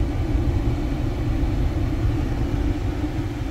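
A car engine, likely a Volvo V60 T3 from 2011, runs steadily at idle with a continuous low rumble throughout, close and even, with no talking.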